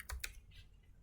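A few quick keystrokes on a computer keyboard while entering a path during Apache Spark setup on Windows 11, two crisp clusters of clicks close up, then quiet.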